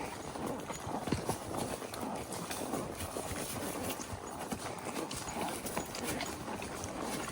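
Horse hooves clip-clop in a steady walking rhythm on a trail in Missouri, heard up close from horseback over light rustling and outdoor ambience.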